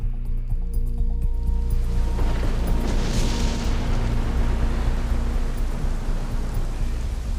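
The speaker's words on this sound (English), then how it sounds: "it looks like it's started to rain" Rain in Metal Gear Solid 5 at Mother Base falls as a dense, steady hiss that builds up after a couple of seconds, with a low rumble underneath and no talking.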